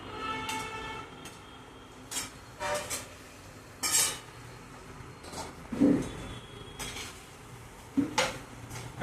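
Intermittent clinks and scrapes of a utensil against a pan as soya chunks are stirred in oil, coming in short irregular bursts over quiet background noise.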